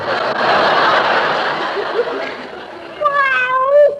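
A cat lets out a couple of drawn-out meows near the end, following a stretch of muffled, breathy background noise, in a 1941 radio comedy broadcast.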